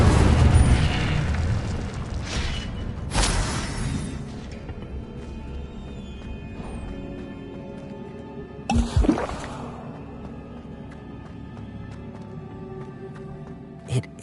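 A fire spell cast in the Hogwarts Legacy video game, heard as a loud whooshing magical burst at the start, a second sharp flare around three seconds, then a brief crackling blast near nine seconds over a low game ambience.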